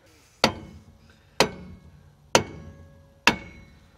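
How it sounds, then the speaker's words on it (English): Four evenly spaced sharp metallic taps from a small hammer striking a rusted rear brake drum on a Toyota Celica, each ringing briefly and decaying, close and clear with no talk. "take a small hammer or something and tap it evenly on each side"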